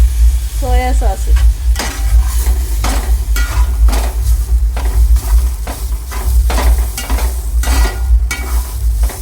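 Vegetables for veg momos frying loudly in a pan as soy sauce goes in, a strong continuous sizzle with repeated scraping stirs throughout, no voices.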